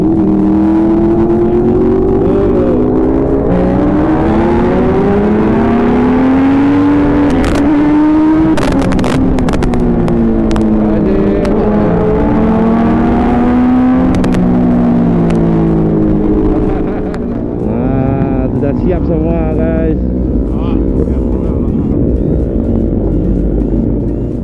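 A superbike engine revs hard again and again at a Sunday morning group ride, loud and close, its pitch climbing and dropping across repeated throttle blips.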